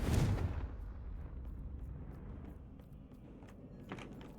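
Bombarda and Confringo spell blasts in Hogwarts Legacy: a single heavy, thudding explosion hits at the start and fades into a low rumble, with faint scattered impacts after.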